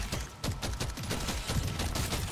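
Ice grenades in Deep Rock Galactic: Survivor going off as a rapid string of sharp blasts and bursts, dense and continuous over a short span.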